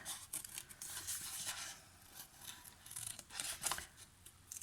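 Scissors fussy-cut patterned paper in quick, crisp snips, close but quiet. Short bursts of cutting come in an uneven rhythm with brief pauses, and no voices are heard.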